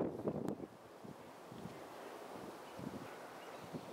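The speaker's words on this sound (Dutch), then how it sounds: "het begint een beetje te waaien" Wind gusting across an exposed hilltop viewpoint in Koh Wua Talap National Park, a steady low rumble buffeting the microphone with a stronger burst at the start, then settling into an even, moderate roar.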